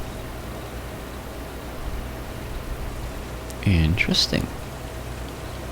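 Steady rain hisses through the whole stretch in Farming Simulator 22, a soft broadband wash with a brief burst of talk partway through.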